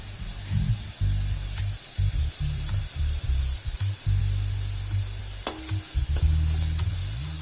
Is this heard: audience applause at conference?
no